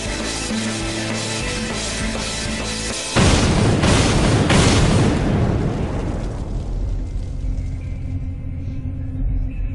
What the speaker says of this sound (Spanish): La explosión es enorme.